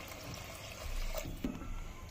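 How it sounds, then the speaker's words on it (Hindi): Water is poured into a pot of rice and peas for a one-pot matar pulao, giving a steady, fairly quiet pouring and trickling wash that swells in the middle and carries on for about two seconds without speech. "अब हम डाल देंगे इसमें पानी।"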